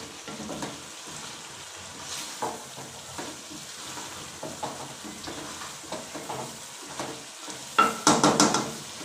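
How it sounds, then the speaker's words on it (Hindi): Potato and carrot fry in ghee over high heat, village style, with a crackling sizzle broken by repeated rhythmic spoon-stirring scrapes and a louder burst of clattering stirring near the end. "चूल्हा हाई करें और इसको अच्छी तरह भूनें, घी छोड़ने तक हमने इसको भूनते रहना है।"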